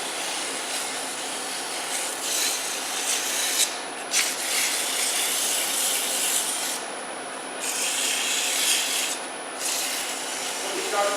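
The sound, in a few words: sanding a wooden segmented baby rattle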